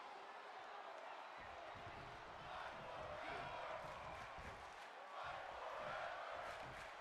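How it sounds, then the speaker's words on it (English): A WWE 2K22 wrestling crowd roars in a broad, sustained wash of cheering that swells in waves, with commentary voices heard over it. "Crowd seem to be loving this one."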